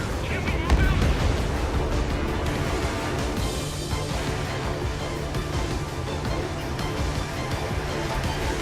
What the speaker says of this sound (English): They've got their anti-air guns aimed right at us.